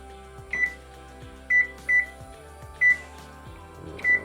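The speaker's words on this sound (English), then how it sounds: "It's going to keep beeping and beeping and beeping." An oven beeps in repeated short electronic tones, about five evenly spaced beeps over a few seconds, clear and fairly close against a low steady hum.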